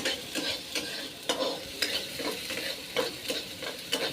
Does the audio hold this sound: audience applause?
no